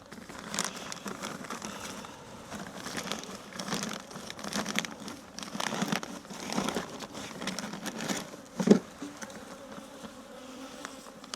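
Plastic vinyl sheeting crinkles and rustles in bursts as it is pulled over a native honeybee hive in winter, with a louder crackle near the end and a faint buzz of bees around it.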